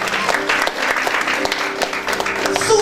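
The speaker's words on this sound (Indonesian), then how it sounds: "Mari beri tepuk tangan bagi Tuhan kita." A church congregation claps together in a thick, continuous wash of applause that fills the room, with a few voices rising faintly above it.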